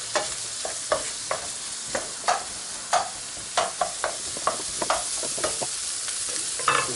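Squid sizzling in a pan as it is stirred: steady, close frying crackle with a regular series of sharp utensil scrapes and taps roughly every half second, with no talking.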